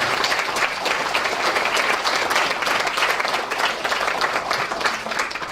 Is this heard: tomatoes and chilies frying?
no